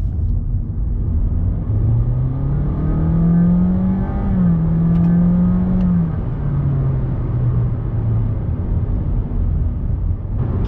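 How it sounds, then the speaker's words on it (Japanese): A Honda Fit (fourth generation) engine accelerating at full throttle, a loud steady drone that rises in pitch over several seconds, dips briefly and then tapers, heard alone with no talk. "で全開加速にすると"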